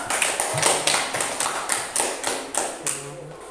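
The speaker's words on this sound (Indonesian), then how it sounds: "Tepuk tangan buat Semaya." Children in a classroom clap their hands for a classmate in a steady, evenly spaced rhythm of crisp claps, about two per second, close and moderately loud.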